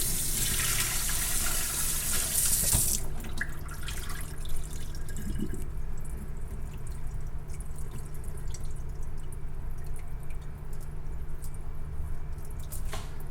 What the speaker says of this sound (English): I'm gonna add 16 ounce water, 2 cup of water